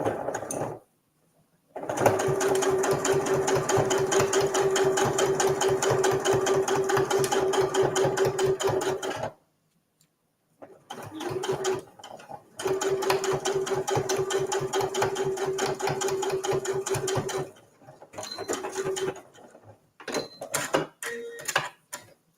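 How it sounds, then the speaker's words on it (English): A sewing machine stitching the short edges of fabric for a visor tissue holder, running in two long steady bursts with a pause between, then a few shorter runs, loud and close with no talk. "we're going to stitch these short edges, again, using our 1/2 inch seam allowance."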